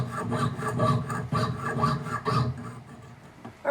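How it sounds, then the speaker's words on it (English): Fine strokes of a jeweler's saw cutting through metal rasp back and forth in a quick, even rhythm, close by, pausing briefly near the end. "And now I proceed to saw."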